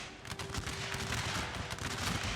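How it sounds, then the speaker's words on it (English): Ashigaru soldiers fire rank-by-rank volleys in a video game battle, a faint, distant crackle of overlapping gunshots that runs continuously. "Yes, they are doing their fire by rank thingy, which is very, very good to see."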